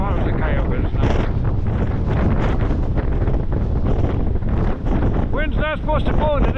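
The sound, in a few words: wind blowing outdoors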